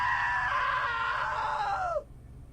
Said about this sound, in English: Now that was a great scream.